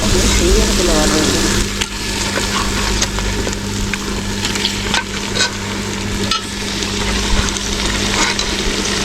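Chicken with tomato and masala frying in a large pot for village-style biryani, stirred continuously: a loud, steady sizzle with scraping spoon strokes throughout and faint voices in the background.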